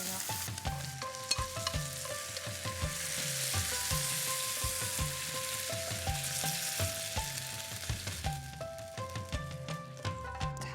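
Mung bean sprouts stir-fry in a hot pan with a continuous sizzle. Light, rhythmic tossing and scraping sit over a faint tonal background, with no talking.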